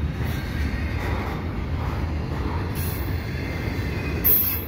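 A CPKC eastbound evening intermodal freight train rolls past at Dorval, a continuous loud rumble of wagons and wheels with high wheel squeal, heard close and without voices.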